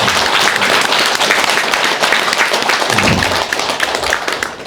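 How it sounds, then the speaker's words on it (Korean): Dense, steady applause from an audience at a life-advice talk fills the whole stretch, loud and close, with no pause or talk over it. "저분에게 박수 한번 해주세요"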